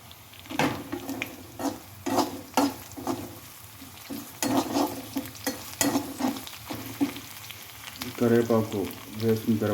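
Curry leaves are added to frying onions in a pan for an egg gravy, giving a sizzle broken by repeated scraping stirs of a spatula. A brief murmur of voice comes near the end.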